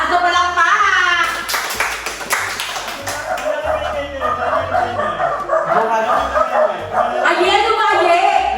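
A burst of applause from a small group in a house rings out amid lively chatter and laughter, while a dog barks and yips repeatedly nearby.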